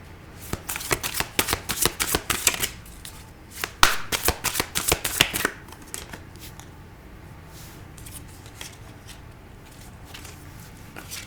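Tarot cards are shuffled in quick riffling bursts for several seconds, then the shuffling stops and a few soft card-handling sounds follow against near silence.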